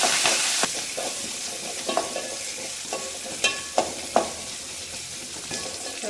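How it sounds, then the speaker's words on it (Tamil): Small shallots, curry leaves and coriander sautéing in a pan for a spicy Tamil-style dish, a steady broadband sizzle with several clear scraping stirs of a spoon spaced through the stretch, fairly close. "வெங்காயம் நல்லா வதங்கிடுச்சு"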